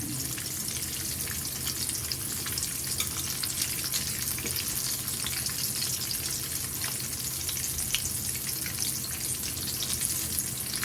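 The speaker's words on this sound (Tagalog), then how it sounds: "sinimulan na natin iprito ang ating tortang talong" Eggplant omelette (tortang talong) topped with ground pork fries in a pan with a steady, dense sizzle and crackle that holds even and close throughout, with no talking.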